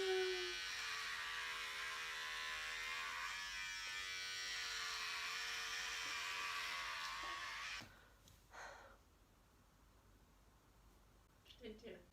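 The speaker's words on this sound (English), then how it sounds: "I have to like shave off my hair" Electric clippers shave off hair for a head shave with a close, steady buzzing drone for about eight seconds, then cut out, leaving a quiet room with a few faint small sounds.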